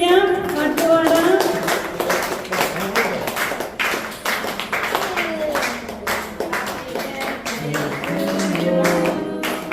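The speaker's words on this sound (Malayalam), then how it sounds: "നമുക്ക് കൈയടിക്കാം, പാട്ടുപാടാം." People clap in a steady rhythmic beat at a birthday cake cutting while voices sing along, the sharp hand claps close and loud throughout.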